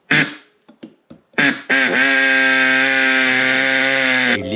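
Power tool cutting thick aluminum on a Honda Civic turbo kit: a few short sputtering bursts, then a loud, close, steady high-pitched whine held for several seconds before cutting off, with no talking.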